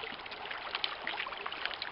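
Sand, rock and creek-bed gravel swirled with stream water in a gold pan in Québec, a soft continuous sloshing and trickling with faint gritty ticks, close but quiet, no talking.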